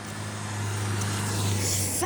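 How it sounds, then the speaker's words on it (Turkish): Road traffic passes close by, a steady engine drone and tyre rush swelling and fading as a car goes past, with no talking. "Arabalar geçip geçip durmayın ya."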